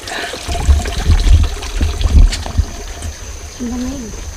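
Cold mountain spring water trickling and pouring outdoors on a hike, a gentle liquid splashing close by with low handling noise and people talking over it.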